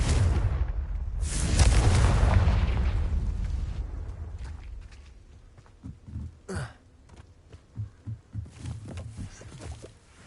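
In Hogwarts Legacy, a Confringo fire-blast spell detonates in a loud, rumbling explosion that fades over a few seconds, followed by scattered soft thuds and footsteps.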